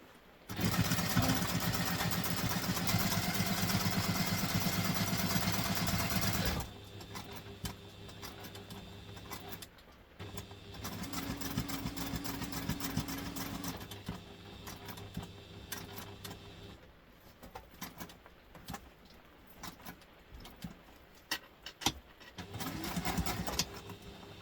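A sewing machine with bobbin thread caught underneath runs loud and steady for several seconds, then stops, followed by quieter intermittent whirring and clicking while working on a backpack.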